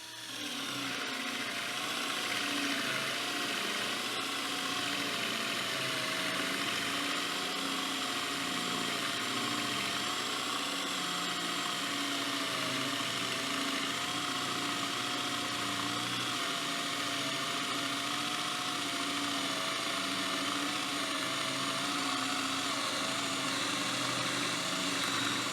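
A RAGE by VIRA Forstner drill bit bores into softwood at second speed, giving a steady, continuous whine and grind that holds at an even level from start to finish, with no talking.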